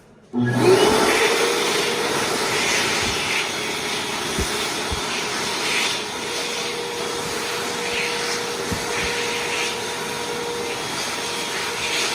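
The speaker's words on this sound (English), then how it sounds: "Weird placement, but really nice dryer." An ASI Turbo-ADA hand dryer switches on abruptly and blows with a steady, loud whooshing roar that continues unchanged to the end.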